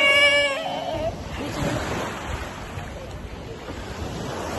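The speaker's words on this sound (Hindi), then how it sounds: "फिर से लहरें आती हुई." Arabian Sea waves break and wash ashore at Kovalam beach in Kerala, a steady broadband surf roar lasting throughout with wind buffeting the microphone and a brief tonal squeal near the start.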